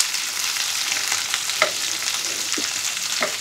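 Soybean chunks, onion and capsicum fry on high flame, a loud continuous hiss of sizzling oil with a few scraping stirs breaking through.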